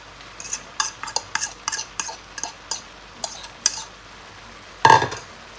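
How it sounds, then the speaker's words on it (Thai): Metal utensil scraping and tapping in a pan as instant noodles are stirred and loosened among vegetables, a quick run of sharp clinks followed by a louder clatter near the end, close and with no talk. "เราก็จะยียีมาม่าให้ เส้น กระจายออกจากกันนะคะ"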